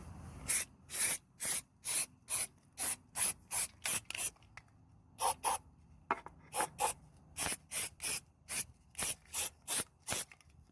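Rust-Oleum rubberized undercoating sprays from an aerosol can onto a 1996 Land Rover Discovery during a water leak repair, in about twenty short, loud, evenly spaced hissing bursts with a brief pause midway.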